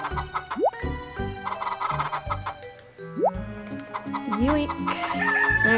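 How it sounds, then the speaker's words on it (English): Chickens cluck and a rooster crows in the farming game Harvest Moon: Save the Homeland, with several bright rising calls over a busy chiptune-style backdrop. "Alright, chickens, you can cluck up a storm now."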